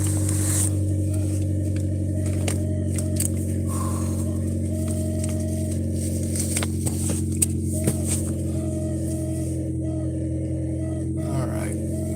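A car driving with fogged-up windows, its engine a low steady drone and road rumble filling the cabin continuously, with faint clicks and rustles on top.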